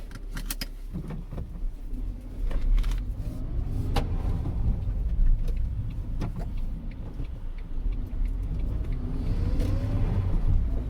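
Renault Twingo engine drawing air through the intake while driving, a steady low rumbling drone with some rising induction tones, close and continuous with light rattles over the top.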